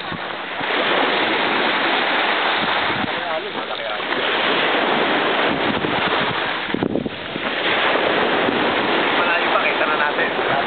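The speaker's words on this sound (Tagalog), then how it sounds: "Ang lakas ng alon o." Strong ocean waves heard from a boat while crabbing in summer, a loud, continuous rushing wash with heavy wind buffeting the microphone and voices talking underneath.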